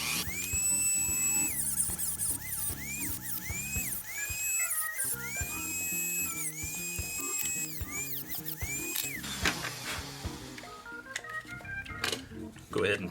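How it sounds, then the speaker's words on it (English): Dremel rotary tool cutting into the plastic of a Kronos 6 part, high-pitched whining tones that rise and fall in short bursts over clattering mechanical noise, fairly loud and close. "we'll just tear into it with a Dremel or whatever you have handy"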